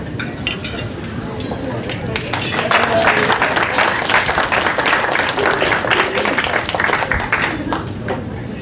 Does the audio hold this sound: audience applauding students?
yes